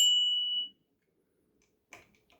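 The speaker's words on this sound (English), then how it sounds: "you have a normal bell in addition to the electronic bell on the KQi Air" A mechanical bicycle bell fitted to a KQi Air electric scooter gives one bright ring that decays quickly, followed by silence and a few faint handling clicks.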